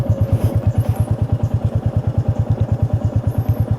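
A Royal Enfield motorcycle idles on a monsoon ride in the hills. The single-cylinder engine gives a close, loud, steady thump-thump pulse at an even rhythm with no talking over it.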